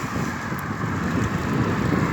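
Steady rain falling outdoors just as a shower begins, a dense, even broadband hiss that stays constant throughout with no talking.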